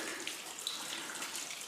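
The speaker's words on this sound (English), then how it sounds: "Supplying endless amounts of water." Water pours steadily out of an underground aquifer inside a cave, a continuous rushing flow heard close by with no talking.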